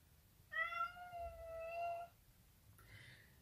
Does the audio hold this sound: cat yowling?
yes